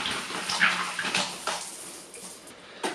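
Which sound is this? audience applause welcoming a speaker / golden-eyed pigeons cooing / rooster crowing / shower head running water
shower head running water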